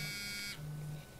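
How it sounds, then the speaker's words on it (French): A mobile phone rings out during a French research award presentation, giving a steady electronic buzzing tone with high harmonics that cuts off about halfway through, leaving a faint low hum. "C'est mon téléphone."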